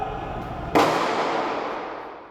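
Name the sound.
gunshots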